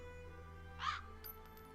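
Crow cawing in the Nancy Drew: Haunting of Castle Malloy game, one sharp caw followed by a fainter short call against a quiet humming background.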